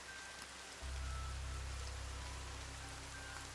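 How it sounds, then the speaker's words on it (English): Steady rainfall in The Forest video game, a smooth, enveloping hiss of drops on surfaces that thickens suddenly after a quieter opening and then holds evenly. "Rain sounds more varied and smoother and more surrounding."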